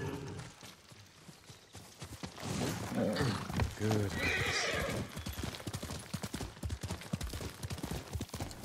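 Video game horse hooves clip-clop in a quickening rhythm as the animal approaches, with a loud whinny partway through; a voice speaks briefly.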